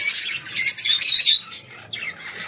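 A pair of violet mask lovebirds kept in a cage beside budgerigars, giving loud, shrill squawks and chirps in close, rapid bursts that break off and restart throughout.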